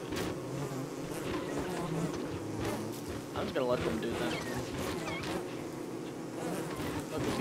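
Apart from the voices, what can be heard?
bees buzzing in the video game Don't Starve Together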